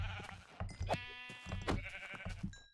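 Sheep in Minecraft bleat several times in quick succession, soft and fairly quiet, each call a short wavering cry with no voice alongside.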